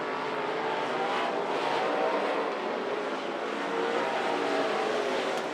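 Non-wing sprint race cars roar around the Monarch Motor Speedway track late in a race, a continuous loud wash of engines heard from the stands with no clear breaks.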